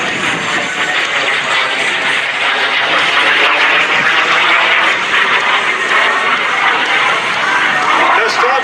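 Mini Jet Airshows jet flown by Tom Larkin at the Great Texas Airshow, a small jet capable of over 300 miles per hour, giving a loud, steady roaring whoosh as it passes, with a crowd present and a voice talking over it.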